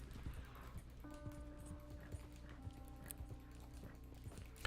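Horse hooves while riding in the Red Dead Online video game, a faint steady clip-clop of hoofbeats with soft game music and ambience underneath.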